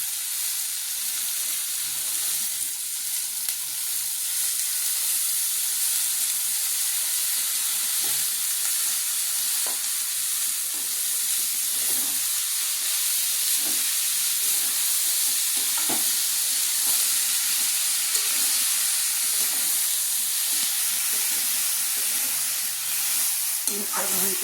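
Banana flower stir-fried with spiced potatoes in a pan, a steady sizzling hiss with irregular scraping stirs throughout, close and continuous, no voices.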